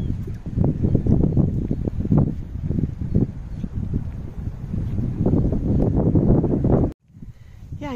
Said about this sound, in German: es ist windig